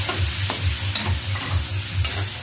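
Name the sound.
vegetables added and stirred in a frying pan for pakbet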